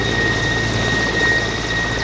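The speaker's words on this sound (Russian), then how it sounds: "Новый вертолет Ми-8 развивает скорость до 250 км в час." A new Mi-8 rescue helicopter in Dagestan flying, a loud, steady, close drone of rotor and engine that continues unbroken with no voices.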